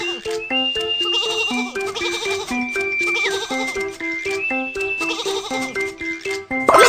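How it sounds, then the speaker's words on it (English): Cartoon sheep bleat repeatedly on a train track in a BabyBus children's train game, the bleats sitting over a bouncy, loud musical soundtrack that plays the whole time. "Some sheep are on the train track."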